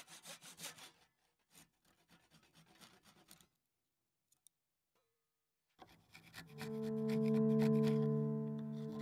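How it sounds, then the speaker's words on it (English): A table saw cuts through thick 2-inch wood stock, with a loud sustained whine from the spinning blade in the last few seconds, after quieter scraping and handling sounds and a silent pause. "This is quite a thick cut to make in 2-inch stock, but this table saw doesn't seem to even notice."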